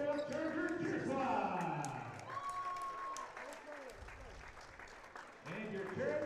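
Crowd applause at a high school basketball game between Erie and Cherryvale, honoring the Cherryvale Chargers cheer squad, a steady roar of clapping and cheering in a gym, with an announcer's voice and squeaks over it.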